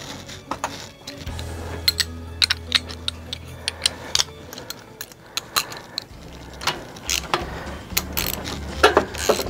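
A ratchet on an extension with a 15 mm socket tightens a nut on an SE Bikes Big Flyer 29er. Rapid clicking bursts and sharp metallic ticks come through clearly, close to the listener, with a low hum in the first half.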